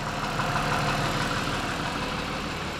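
A car engine idling steadily after new injectors flooded the exhaust with excess fuel, producing a loud, continuous rough rumble up close with no pauses or voices.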